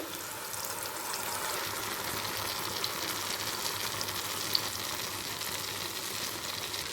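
Spice paste frying in hot oil and ghee for a paneer dish, giving a steady, close hiss and crackle that holds evenly throughout with no talk.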